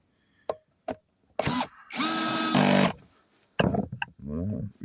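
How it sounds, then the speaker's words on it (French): A power drill drives screws while fitting the mass airflow sensor on an Opel Vivaro van, heard as short sharp clicks, then whirring bursts of the motor spinning up and stopping, close and loud. "Et là, on va visser."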